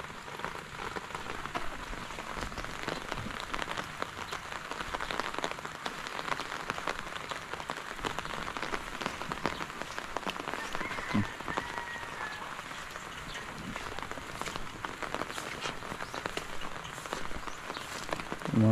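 Steady rain falls on a farm field, a dense, even patter of drops hitting the ground and leaves throughout, with no voices.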